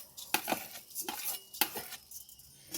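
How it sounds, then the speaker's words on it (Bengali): Fenugreek seeds lightly frying in a pan for homemade masala: faint soft sizzle with several sharp scraping clicks of a spoon stirring against the pan, close and quiet. "এবার একটু হালকা করে ভেজে নেব। দেখুন, এই মেথিটা দিয়ে দিলাম"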